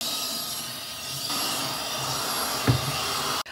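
A small handheld vacuum cleaner runs on a couch, a steady close whirring hiss that rises partway through, gives a brief bump near the end and then cuts off abruptly, with no speech.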